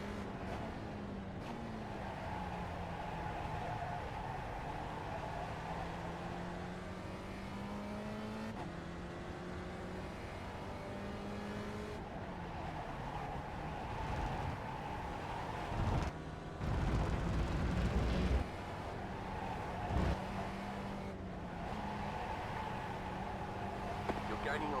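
A race car engine drones and shifts pitch through the gears during a race, heard steadily from inside the car with brief louder bursts and a voice speaking over it.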